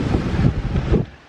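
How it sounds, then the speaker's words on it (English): Wind buffets a camera microphone while cycling, making a loud, low, fluttering rumble in uneven gusts that fades slightly at the end. "if you can just hear the wind"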